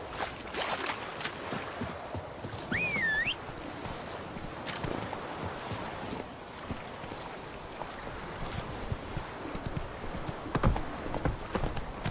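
Roach the horse gallops in The Witcher 3 with steady rhythmic hoofbeats throughout, joined by a brief whinny early on, over quiet ambient game sound.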